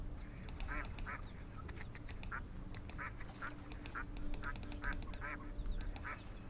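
Ducks in a casual swimming video game quack over and over in an irregular, busy chorus of short nasal calls, steady and moderately faint over a low hum, with no speech.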